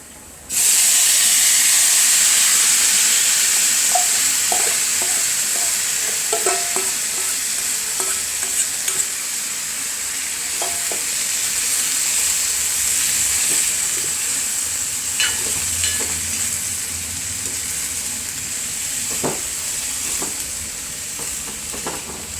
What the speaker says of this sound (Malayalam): ഉള്ളി മുളക് വെളുത്തുള്ളി എല്ലാം കൂടി ഞാൻ വെളിച്ചെണ്ണയ്ക്കകത്ത് കിടന്ന്